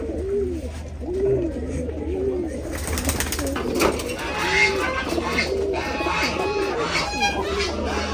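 Pigeons in a cage coo repeatedly and close up, their rolling calls running the whole time, with faint talking and clatter mixed in during the second half.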